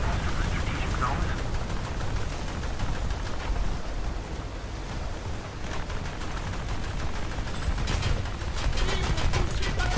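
20 mm anti-aircraft guns firing in the naval video game World of Warships, a dense continuous rattle of rapid shots mixed with louder bursts and booms, with a voice talking faintly underneath.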